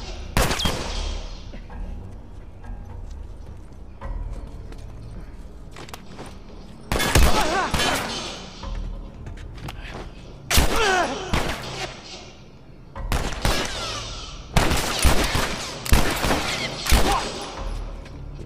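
Bursts of game gunfire in The Last of Us, sharp shots and rapid volleys clustered in several loud flurries with quieter gaps between, close and punchy, with occasional talk nearby.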